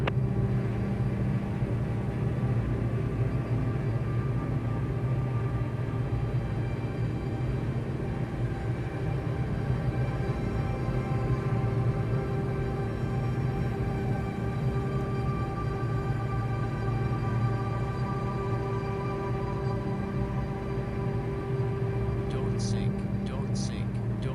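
Small airplane engine droning steadily in cruise flight over Grand Teton, a constant loud hum with strong low tones throughout, with talk over it and a few faint clicks near the end.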